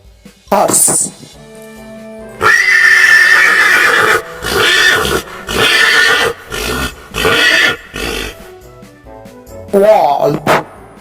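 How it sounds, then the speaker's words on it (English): A horse neighs in several loud, whinnying bursts with short gaps between them, clear and close, from a collection of animal calls. "horse,"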